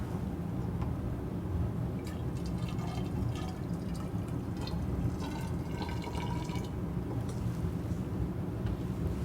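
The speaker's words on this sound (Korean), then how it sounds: "250 비커에 50ml 다이클로로 메테인을 눈금 실린더를 사용하여 측정합니다" Dichloromethane being measured out and poured from a graduated cylinder into a 250 ml beaker in a chemistry lab, a steady low liquid trickle with faint drips over a constant background hum.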